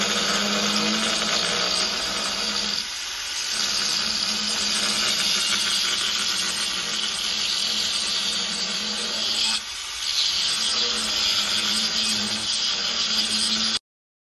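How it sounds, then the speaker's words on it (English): A metal bracket is welded to a plate in a machine shop, giving a loud, continuous crackling hiss that runs almost unbroken, with two brief dips where the arc pauses. "Now just finish welding it."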